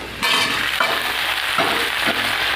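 Pieces of green plantain fry with potatoes in hot oil, a bright crackling sizzle broken by several stirring strokes against the pan.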